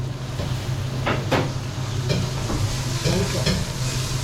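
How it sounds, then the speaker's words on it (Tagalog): Tilapia fries in a pan with a steady, close sizzle, broken by a few light clinks and stirring sounds. "ito yung ating Fry tilapia"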